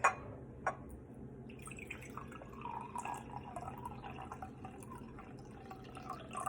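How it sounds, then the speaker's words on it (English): Water trickles and splashes as it is poured into a measuring cup, a soft liquid fill with a faint pouring tone and a couple of sharp drips at the start, heard up close with no talking. "So now I can pour it into the second cup."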